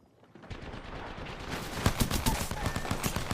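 Rapid bursts of P2020 pistol fire in a competitive Apex Legends match, crackling in dense overlapping volleys that build in loudness over a few seconds.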